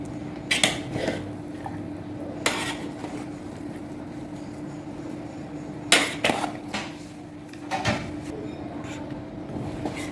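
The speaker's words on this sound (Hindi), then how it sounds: "ये हमारी बिरयानी का मिक्स करते हैं, देखते हैं।" Occasional clinks and scrapes of a spoon against a pot as chicken biryani is stirred after the dum lid comes off, with soft kitchen background and no talking.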